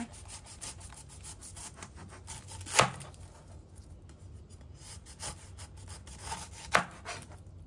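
Slow, scraping cuts of a knife through tough pineapple on a board, with two sharper thuds where the blade hits the board.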